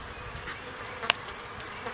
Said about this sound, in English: See baby bees in there moving around